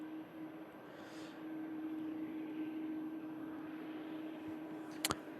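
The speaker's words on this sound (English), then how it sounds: "This TUI Dreamliner, TUI flight 2366, heading off to Larnaca" A TUI Boeing 787 Dreamliner bound for Larnaca takes off, a low steady engine drone with a constant hum at a distance, ending in a sharp brief click.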